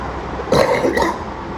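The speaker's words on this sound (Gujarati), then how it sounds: "આપણે ઉધરસ બહુ થઈ ગઈ છે" A couple of short, rough coughs close by, rising out of a quiet background hum and then fading back.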